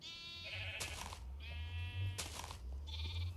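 Video game sheep bleating in several drawn-out calls, one after another, over a low steady hum, with sharp bursts between them.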